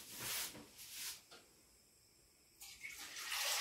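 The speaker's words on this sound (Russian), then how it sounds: "Заливаем воды." Water runs and splashes from a tap into a cooking pot, with a brief quieter stretch before the flow grows louder again.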